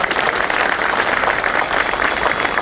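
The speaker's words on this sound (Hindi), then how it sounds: "और मैं चाहता हूं कि जोरदार तालियों से" An audience at a Bar Council of Delhi event gives steady, dense applause from many hands, moderately loud and even throughout, with no voices on top.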